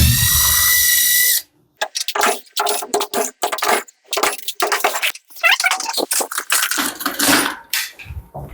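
A power tool whirs steadily at first, then a ceiling light mounting bracket is worked off with a rapid series of sharp metallic clicks, clanks and rattles, close and loud.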